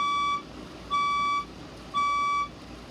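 A fire alarm speaker sounds its test tone in a building, three evenly spaced half-second beeps, loud and clear, with no talking.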